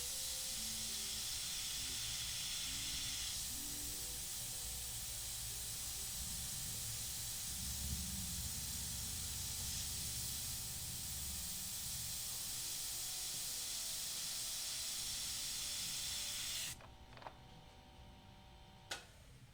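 An airbrush sprays paint during a freehand skull painting session, giving a steady close hiss throughout that stops abruptly near the end, leaving faint room noise and a few small clicks.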